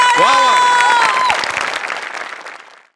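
Applause and cheering from an audience at a home bhajan gathering, starting over musical tones and a voice, then fading out over about three seconds.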